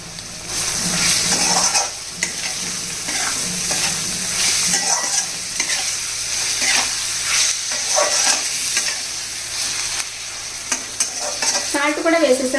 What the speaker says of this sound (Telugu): ఇప్పుడు కట్ చేసి పెట్టుకున్న ఉల్లిపాయ ముక్కలు వేసేసుకోవాలండి